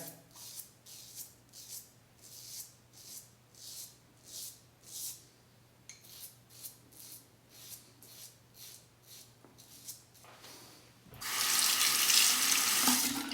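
Rhythmic scraping strokes from a Parker 71R safety razor during a shave are followed by a tap that suddenly runs loudly with a broad hiss of water for the rest of the clip.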